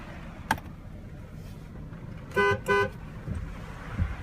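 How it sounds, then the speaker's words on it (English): Two short, loud honks from the horn of a 2015 Ford Flex, a quick double blast close by, with a soft click just before and faint background noise around it. "Horn right there."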